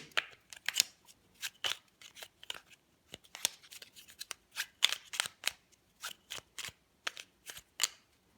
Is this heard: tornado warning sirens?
no